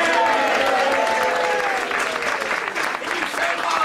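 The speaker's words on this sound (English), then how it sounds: "Applause and cheers for Her Royal Highness." An audience applauds and cheers loudly at a stage show of Aladdin, dense continuous clapping with voices mixed in, dipping briefly near the end before swelling again.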